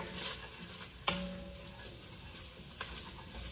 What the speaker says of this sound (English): Cooking salt pork as we speak.